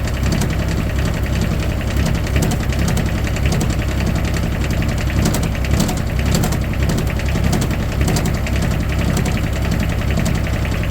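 A Wacker Neuson 803 mini excavator with a suspected bad glow plug runs steadily nearby, its diesel engine giving a loud, continuous idling rumble with a rapid knocking clatter and no talk over it.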